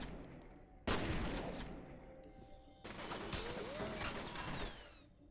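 Bursts of automatic weapon fire in F.E.A.R., two separate volleys of rattling gunshots with mechanical clatter and ricochets, faint and somewhat distant, split by a short lull.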